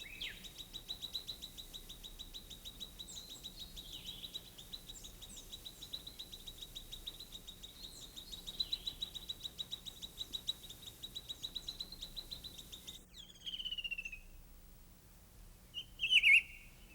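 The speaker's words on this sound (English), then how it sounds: "The Taiwan laughing thrush is the biggest babbler in Taiwan. They are loud birds." Taiwan laughing thrush calling in a mountain forest in Shien-Young Forest Recreation Area, with a sustained high, chattering, whistled call over a continuous background hum. Sharper separate chirps come near the end, faint and distant, with no voices.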